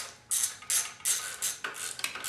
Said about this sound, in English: You want to take the 12mm bolt on the left side of the alternator. Go ahead and tighten that up.